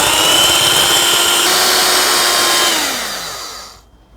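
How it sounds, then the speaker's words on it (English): Electric hand whisk beating egg whites for tiramisu toward stiff peaks, a steady loud motor whine that holds then drops in pitch as it slows and stops near the end. "And now we're going to whisk it until it forms stiff peaks."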